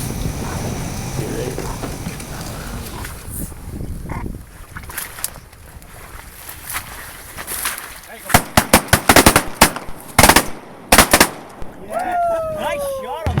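Shotgun blasts ring out during a California duck hunt: a close burst of several sharp shots in quick succession, then a couple more, over faint outdoor background and occasional voices.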